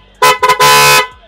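An original PIAA motorcycle horn blares close and loud in three bursts: a short blast, a quick double toot, then a longer sustained honk, with nothing else around it.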